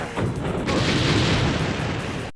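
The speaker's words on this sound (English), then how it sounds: "just about everything in the game explodes" A loud, dense explosion roars through The Crow: City of Angels video game, a continuous rumbling blast that fills the whole moment before cutting off abruptly.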